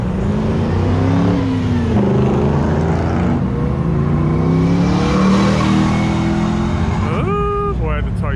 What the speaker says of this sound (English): I had the Toyota to the floor